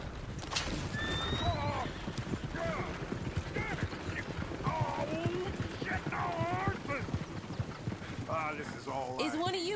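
A horse-drawn coach in the Red Dead Redemption 2 video game rattles past with clip-clopping hooves and repeated horse whinnies and neighs over a busy background, while game characters talk throughout.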